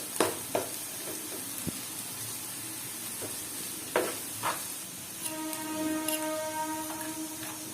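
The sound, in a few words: onions with cumin frying in oil on a pan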